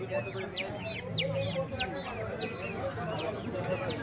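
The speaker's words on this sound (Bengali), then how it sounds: "এইটা একটা মোরগ আছে" A rooster clucks repeatedly among other fowl at a traditional livestock market in Khulna, the sharp calls rising over a dense, noisy crowd background while people talk nearby.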